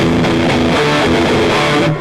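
Line 6 HX Stomp distortion placed after the cab simulation, giving a loud, dense, fizzy guitar tone across a quick run of chords and notes that cuts off sharply at the end, with no speech.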